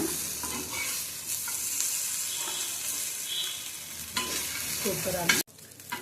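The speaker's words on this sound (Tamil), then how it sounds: "இந்த மாதிரி நல்லா போட்டு நல்லா மொறுன்னு வறுத்து எடுத்துக்கோங்க" Raw banana slices fry crisp in hot oil with curry leaves for a spicy Tamil-style fry, a steady close sizzle with stirring scrapes throughout that cuts off abruptly near the end, with no talking.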